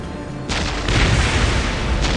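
Orc artillery shells bursting in a Dawn of War battle, a heavy boom hitting at about half a second and then a loud, sustained rumble of blasts.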